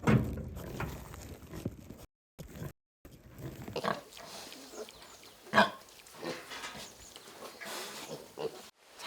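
Pigs on a free-range farm, heard as scattered grunts and rooting noises over a rough outdoor background, with a few louder close snorts and brief gaps of silence.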